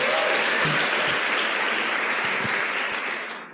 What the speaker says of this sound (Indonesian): Tepuk tangan untuk vision seminar.